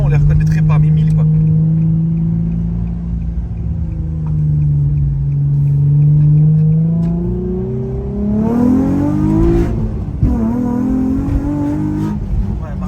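A sports car engine revs on a road, a deep steady drone that dips, then climbs in pitch through rising revs and eases off, loud and close, with people talking over it.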